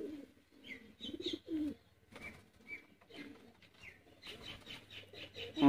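Pigeons for sale in Sialkot coo in soft, repeated low calls close by, with brief chirps and some wing flutter mixed in.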